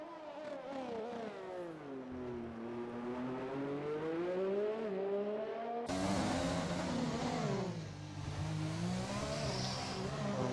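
A Formula 1 style race car in the RSF1 racing game heads out on track on medium tyres to warm them, its high engine whine rising and falling steadily through the gears, loud and close throughout.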